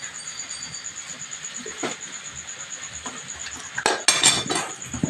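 A knife chops onion and tomato on a board, giving a few scattered, sharp taps and clinks over quiet kitchen background, with a denser cluster of hits near the end.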